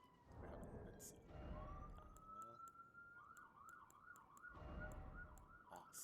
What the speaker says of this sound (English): Sounds of New York. The sirens in the background.